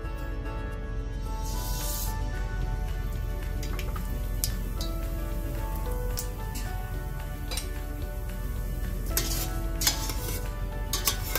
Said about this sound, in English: Just move your mustard around till it splutters.